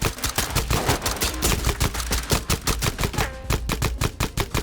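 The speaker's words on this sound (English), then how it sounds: "I'm shooting my paint gun" Rapid, loud bursts of a paint gun firing in a first-person shooter video game, the shots in a fast, steady stream of sharp cracks with no voices.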